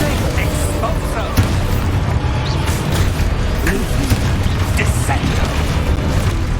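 Blasting spell explosions from a Harry Potter video game, a dense barrage of booms and bursts crackling continuously over a loud battle din, with spoken spell incantations throughout.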